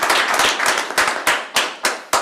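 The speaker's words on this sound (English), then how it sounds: "can we give a round of applause for those individuals?" A small audience claps for employees being honored for years of service, loud close-up clapping that thins out into a few slower, separate claps.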